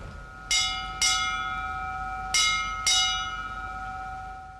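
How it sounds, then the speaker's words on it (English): Bells toll in two pairs of ringing strikes, each ring decaying slowly into a sustained hum, heard alone against quiet outdoor background. "and the bells toll."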